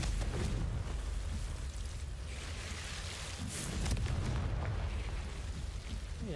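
A Confringo spell explodes in Hogwarts Legacy, a loud, rumbling blast with heavy low booms and crackling bursts that fill the space for several seconds.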